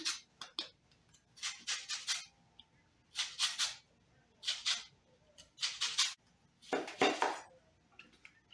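A lemon is zested on a metal grater in short rhythmic bursts of raspy scraping, about six separate strokes, close and fairly quiet, with short pauses between them.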